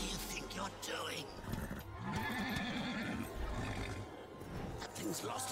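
A horse in the Darksiders video game whinnies and snorts amid clattering game sounds, while voices talk over it throughout.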